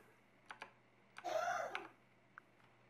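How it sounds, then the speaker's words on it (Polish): Sparse key presses on a Razer BlackWidow Tournament mechanical keyboard, a few crisp isolated clicks with a brief rattling burst in the middle, quiet and close in a silent room. "klawisze nawet na brzegach można naciskać i chodzą bardzo precyzyjnie"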